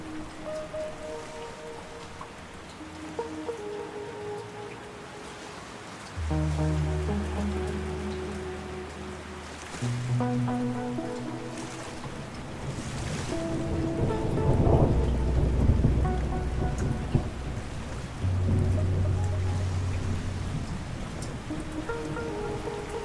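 Steady rain falls through a storm while deep rumbles of thunder swell and fade beneath soft sustained music tones, building louder in the middle before easing back.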